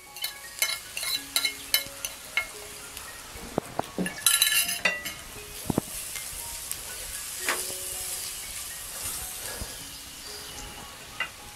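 Turmeric, spices and salt fry in a pan: a soft, steady sizzle broken by frequent sharp clinks and scrapes of a spoon stirring against metal, close and alone without talk.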